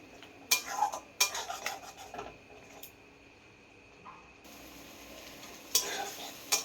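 A spatula scrapes and stirs poppy seed masala frying in a pan, sending out several short, sharp scraping bursts over a soft, low sizzle, close by and fairly quiet.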